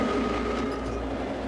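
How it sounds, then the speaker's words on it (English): A BART train runs on its track, a steady close rumble with a faint tonal hum and soft rail clatter, no talk. "Want to drive the train some more, Frank?"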